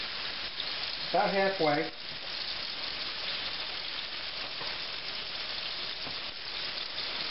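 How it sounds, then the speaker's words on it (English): Pork chops sizzle steadily in hot oil, a continuous loud crackling hiss throughout, with a brief voice speaking over it near the start. "we're just going to drop our pork chops right in there, nice and hot"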